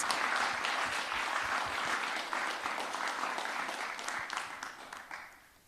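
An audience at a business design competition gives a round of applause for the 2023 competitors, steady clapping that gradually fades toward the end.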